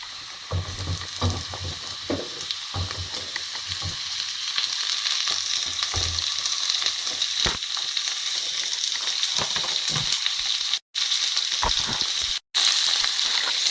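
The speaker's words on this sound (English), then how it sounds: "So now we can add our capsicums." Capsicums tossed into a pan of cooked onions sizzle steadily, with close stirring clatter and scraping over a constant hiss of frying oil.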